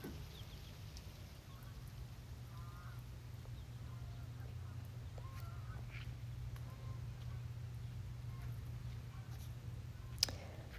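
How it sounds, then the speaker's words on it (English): Distant geese honk intermittently flying overhead a summer garden, faint against a steady low hum and soft background hiss of a sprinkler. "You can also hear the geese flying overhead."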